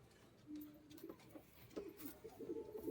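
Pigeons from an old bloodline coo softly in short rising phrases, faint and close, over a quiet background.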